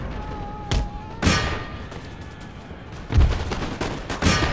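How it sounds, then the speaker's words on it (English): Cannon and musket fire from an Empire Total War siege battle: several sharp, booming blasts go off at irregular intervals, some close together, over a low rumbling background. "Are these cannons actually doing anything?"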